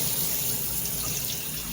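Steady, loud hiss of water spraying from a shower head in continuous spray, close and constant with no voices.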